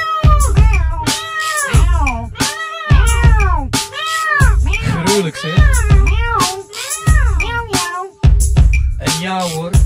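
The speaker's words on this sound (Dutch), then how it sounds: "En heel zachtjes begin je te miauwen." Repeated meows come in rhythmic bursts within a Dutch pop song, loud and close over the music, with sung vocals around them.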